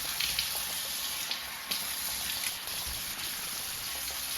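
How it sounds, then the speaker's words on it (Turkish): Water running steadily from a tap while someone washes their face, a continuous close hiss with small splashes and drips breaking through the flow. "Yüzümü yıkadım geldim."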